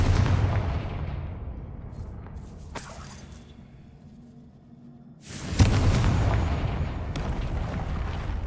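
The Confringo explosive spell goes off in the Hogwarts Legacy video game with deep rumbling booms. A sharp crack follows a quieter stretch and leads into a loud sustained blast that dies away slowly.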